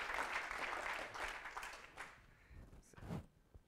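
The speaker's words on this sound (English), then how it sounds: "And the crowd goes wild." Audience applause at a GNOME conference talk, a dense patter of clapping that fills the first couple of seconds and then thins and fades, with a few scattered claps toward the end.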